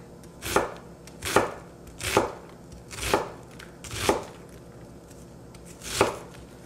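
Six sharp knife chops on a cutting board while making tomato sauce, evenly spaced about a second apart with one longer pause before the last, close and clear with no talking.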